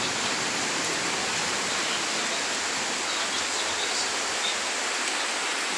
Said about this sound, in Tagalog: Kasi ang ganda ng agos ng ano, ng baha.